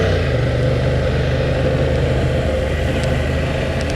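A Honda Transalp motorcycle engine running steadily with a deep low rumble and even drone, close and continuous throughout, with no talking.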